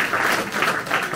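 Audience in a hall applauding during a mayor's New Year address in Léran, a short burst of continuous clapping at moderate loudness.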